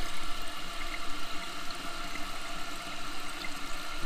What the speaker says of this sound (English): can see the water going down that little hole there, so that's important, because that's actually what's filling up the bowl down there